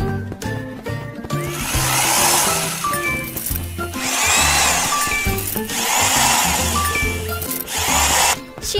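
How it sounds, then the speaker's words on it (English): A cartoon power drill whirring in three long bursts for a kids' pony-care game, loud and close over cheerful background music with light chimes. "Let's drill the holes."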